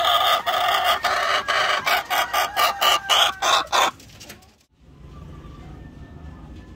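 A hen clucks loudly in a rapid series of bursts, then the calls stop, leaving quiet outdoor farm background.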